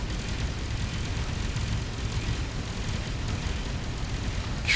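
Torpedo explosions in the space game Avorion come across as a dense, sustained roaring rumble, loud and steady, with a sharp brief burst at the very end.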